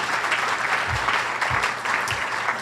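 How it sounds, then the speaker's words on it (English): Audience applause for the speakers at a community housing luncheon forms a continuous, moderately loud wash of clapping across the room, with a few soft low thumps underneath. "But a nice round of applause for our speakers today as well."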